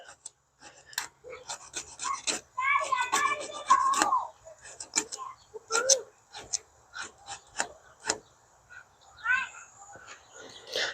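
Hand filing on a metal part of a Galaxie 500 car, a series of short rasping strokes at an uneven pace, close and fairly quiet, with a voice talking in between the strokes.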